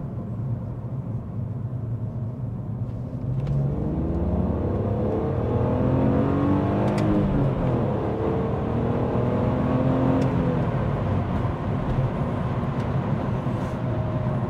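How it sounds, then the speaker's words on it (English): A car on its stock exhaust accelerates in second gear, the engine note rising steadily then dropping and climbing again in a smooth, moderately loud sweep with a steady low rumble underneath. "Honestly, it sounds really good, the stock exhaust system."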